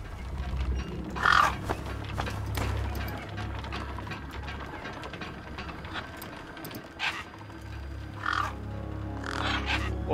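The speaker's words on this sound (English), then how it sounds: "Then I heard them. Gang birds, scavengers" Gang birds cawing in the video game Beyond a Steel Sky, a few harsh calls rising at intervals over a steady low mechanical rumble in a wasteland setting, with no talk.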